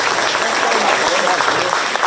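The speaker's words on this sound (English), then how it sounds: "Yes, give them a round of applause." Audience applause at a county fair queen ceremony, a dense, loud burst of clapping filling the whole moment, close and continuous.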